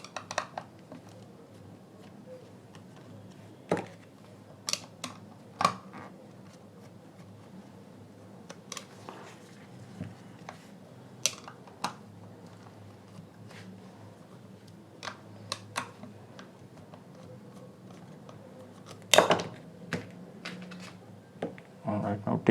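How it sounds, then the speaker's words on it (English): Screws being removed from a JBL Flip 3 portable speaker, scattered sharp clicks and small metallic ticks of a screwdriver and parts at close range, spaced irregularly over a low background hum. "Now I am going to remove these 4 screws which is here"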